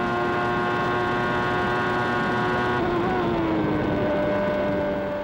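Formula 1 race cars from the 1994 season, with a Ferrari accelerating: a loud, continuous engine whine with steady harmonic tones that dip in pitch as the car passes.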